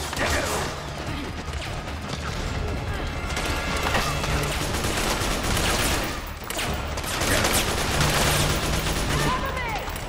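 AK rifle gunfire in the video game Metal Gear Solid 4, dense bursts of shots and crashing impacts over a continuous loud battle din, with a player's voice talking in places.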